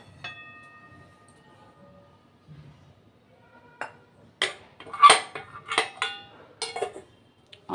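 A metal kadai is set down on a stove for tempering with oil, giving a few sharp clanks and clinks of cookware in a quiet kitchen, scattered and close.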